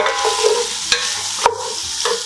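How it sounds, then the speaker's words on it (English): Onion and minced garlic sauté in a pot with a soft sizzle, while a utensil scrapes and stirs it a few times in short strokes close by. "Onion in. Hefty tablespoon of minced garlic. And saute."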